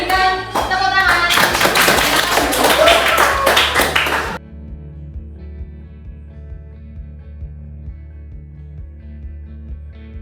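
A class of students claps together briefly and loudly for a group presentation, the clapping stopping abruptly partway through and leaving a quiet room.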